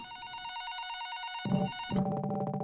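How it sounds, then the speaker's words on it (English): A phone rings with a steady repeating electronic trill, close and clear, joined partway through by a lower buzzing tone pattern. "Your phone is ringing."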